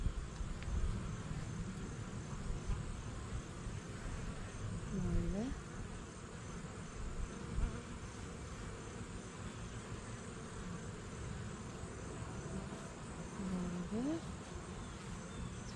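A dense, steady hum of honeybees buzzing around an open hive during an inspection, close and continuous with a few louder passes of individual bees flying by.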